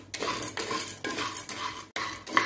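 Roasted gram (pottukadalai) being dry-roasted and stirred in a pan on low heat, giving a steady scraping rustle with repeated spoon strokes against the metal, close and moderately loud with no talk.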